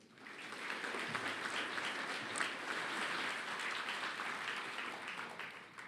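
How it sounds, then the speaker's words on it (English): An audience at a Borders College graduation ceremony gives a sustained round of applause, a dense, even wash of many hands clapping that holds steady throughout at moderate distance. "if you could please give a loud round of applause and welcome the Chair of Borders College, Ray McGowan."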